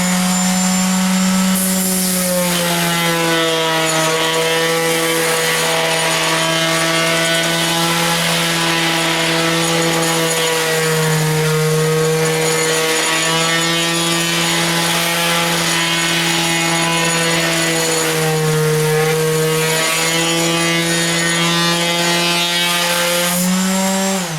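A wooden guitar body for a Rickenbacker 325 build is worked with 100 grit sandpaper, likely by a power sander given the steady motor hum under a continuous close abrasive rasp, with slight swells as pressure shifts.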